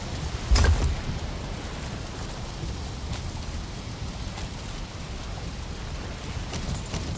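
Steady rain falling in the Valheim video game, a continuous even hiss of drops with a brief louder patch near the start and faint low rumble underneath, no voices.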